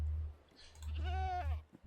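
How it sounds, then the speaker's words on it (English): A Minecraft goat in a mountain area gives one short, wavering bleat at close range over a steady low hum, about one second long. "Here are the regular goats."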